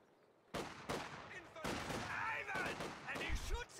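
Gunfire and explosions from the Soviet side of a Company of Heroes 2 battle, including a machine gun. Dense bursts and volleys crack loudly and overlap almost without a break, and a voice talks under the combat.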